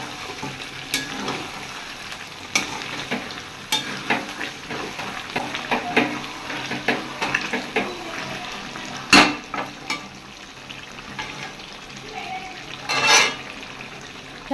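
Meat sizzles and fries in a pan while it is stirred, with steady crackling broken by repeated scraping and clanking strokes, close and clear with no talking.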